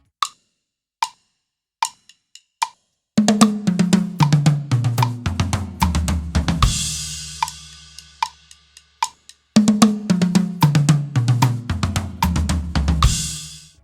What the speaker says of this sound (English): let me show you how the single beat drag in triplets sound on the kit